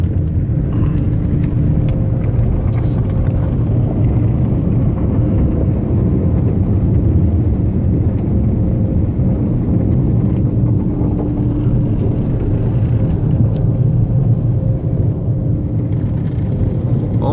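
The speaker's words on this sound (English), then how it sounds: "The brushes are brushing." Car wash brushes scrub a car at a Brown Bear Car Wash, a constant loud rumbling swish that fills the whole stretch without letting up.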